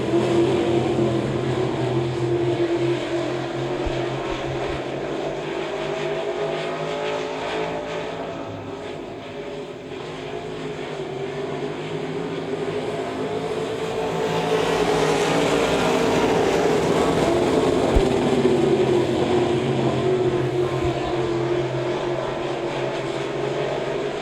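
Race cars roar around a dirt speedway during an eight-lap heat race, a loud continuous engine drone that swells as the pack passes nearby, heard alone without talk.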